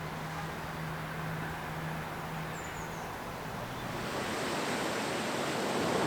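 Steady broadband rush of flowing water, loud and continuous, growing slightly stronger toward the end, with no voices.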